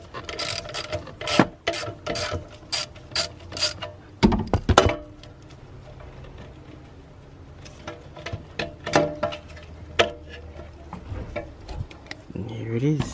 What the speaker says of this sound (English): one 10mm bolt right here. Just gotta get it loosened so this clip can just pop right off.